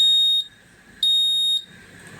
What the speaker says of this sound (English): so I set it to beep progressively louder as I approached a wall, with continuous beeps at the end